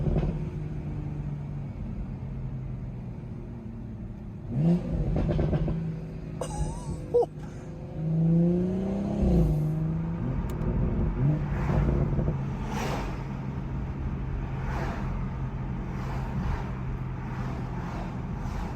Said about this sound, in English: listen to these downshifts with XHP